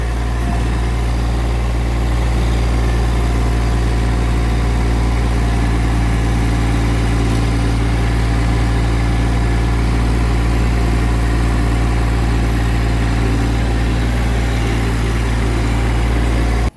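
A Massey Ferguson GC1710 sub-compact tractor with a front end loader idles steadily close by, a constant low engine drone with no talk over it.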